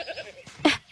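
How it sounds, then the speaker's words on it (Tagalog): A single short bleat from a goat rises near the end, close and fairly loud, after some faint murmuring sounds. "Kambing na naman?"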